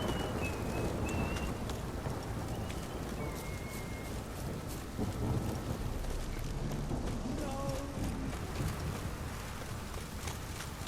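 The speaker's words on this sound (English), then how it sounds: "A storm, damn it." Rain pours steadily during a storm in The Witcher 3 video game, a loud continuous wash with low rumble beneath and a few faint bird-like tones.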